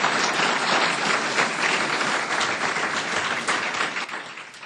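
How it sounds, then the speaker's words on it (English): Seated audience applauding panelists at the close of a farm-to-fork talk on healthy animals and food, loud dense clapping that stays steady before tapering off near the end. "Please give the panelists a big round of applause for their efforts today."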